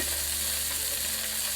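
Onions sizzle steadily in a hot frying pan for a soul food smothered pork chop supper, a dense continuous crackling hiss with a low hum beneath, close and fairly loud with no talking.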